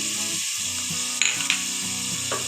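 Chopped onions sizzle and fry steadily in hot oil as salt and turmeric go in for mint pakoras, with a couple of brief scraping clinks from a spoon against the pan.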